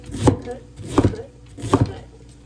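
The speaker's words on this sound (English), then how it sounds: "Again, we want to cut strips." A knife chops cabbage into strips on a cutting board, three distinct heavy thuds at an even, unhurried pace, close and fairly loud.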